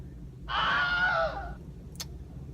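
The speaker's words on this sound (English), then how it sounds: "If you know movies, you know the Wilhelm scream." A single Wilhelm scream sound effect, a short, loud, high-pitched anguished male cry that rises and then falls, followed by a brief sharp click.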